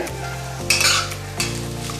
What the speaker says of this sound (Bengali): এবার একটু এই চপড অনিয়নটা দিয়ে দিচ্ছি